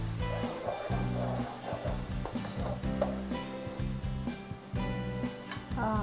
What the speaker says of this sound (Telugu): ఇలా కలుపుతూ ఫ్రై చేసుకోవాలి